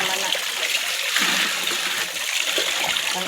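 Water splashes and pours steadily while someone changes out the water, a continuous broadband wash with light splattering and faint background voices.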